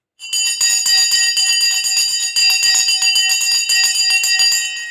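An electric bell rings continuously to open a live stock market show, a loud rapid metallic clatter that starts abruptly and holds for several seconds, with a brief dip midway.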